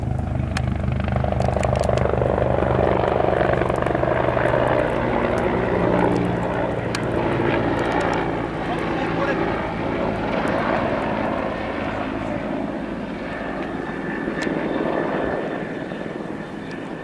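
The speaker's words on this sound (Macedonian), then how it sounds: "слушате звукот, и се гледа самиот хеликоптер." A helicopter flies over a wildfire near the village of Bigla, Delčevo, its loud, close rotor and engine noise beating steadily before easing slightly as it moves off.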